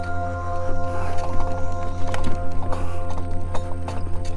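Horse hooves clip-clopping along a state park trail in Texas during a trail ride, a steady close rhythm of footfalls over a constant low hum.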